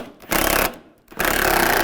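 A power tool tightens bolts on a 2015-2020 Cadillac Escalade headlight with two loud, rapid rattling bursts separated by a short pause, close up.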